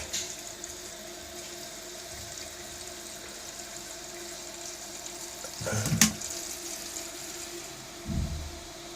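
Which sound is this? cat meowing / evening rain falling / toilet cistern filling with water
toilet cistern filling with water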